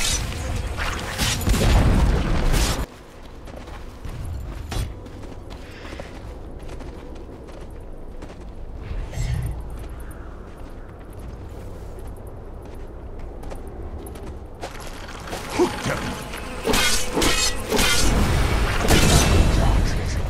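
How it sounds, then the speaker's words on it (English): Dota 2 gameplay with a Dire bottom tower under attack, heavy booming impacts and crashing hits in bursts at the start and end, with quieter battle noise and a game announcer voice in the middle. "Dire's bottom tower is under attack."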